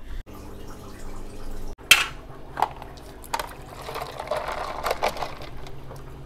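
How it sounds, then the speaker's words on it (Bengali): An aquarium top filter, caked with Oscar fish waste like muddy sludge, gets rinsed in its own tank water. Close splashes and sloshing come in short bursts, then build into steady agitated swishing toward the end. "আমি এখন এই ট্যাঙ্কের জলে এখন আমি আমার টপ ফিল্টারটা ওয়াশ করবো।"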